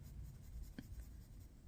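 A cheap colored pencil with a sharp tip scratching across paper, a faint, dry, rasping stroke heard close up and on its own in a quiet room.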